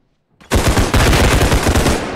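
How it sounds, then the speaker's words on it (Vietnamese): Loud, close automatic gunfire from the realistic shooter game Bodycam opens after a brief quiet moment and then pounds on in a fast, steady burst for the rest of the clip. "Thằng nào vừa bắn tao, khai mau."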